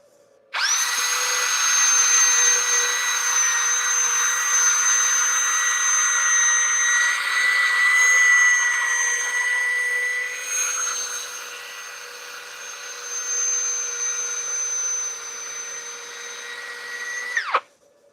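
A turned piece spinning on a lathe while 120-grit sandpaper is held to it, giving a loud steady motor whine with a rushing abrasive hiss that cuts off abruptly at the end.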